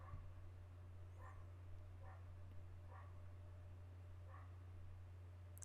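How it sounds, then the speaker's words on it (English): A dog barks indoors in a handful of faint, evenly spaced yips over steady low electrical hum, distant and quiet with no talking. "Excuse the dog, guys."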